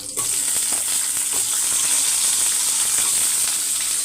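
Continuous close sizzling of green chilies and drumstick frying in hot oil in a pan, with a bright, steady hiss and a few soft clinks of stirring.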